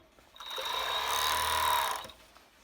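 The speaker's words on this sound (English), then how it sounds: "We then do the bit of finishing with either your overlocker or your zigzag machine, just to trim the excess fabric" A sewing machine, either an overlocker or a zigzag machine, finishing and trimming the raw edges of a summer dress's fabric, one close, steady whirring run of about a second and a half that starts and stops cleanly.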